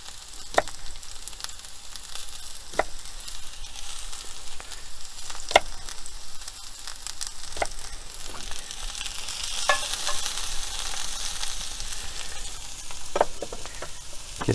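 Tofu scramble frying in a pan with steady, close sizzling throughout, broken by occasional sharp clicks and scrapes of a utensil stirring against the pan.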